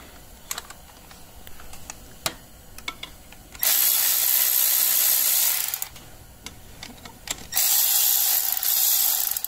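A ratchet removing clutch cover bolts on a Polaris Scrambler XP 1000 S, with scattered clicks and taps, then two long stretches of fast, loud, close ratcheting.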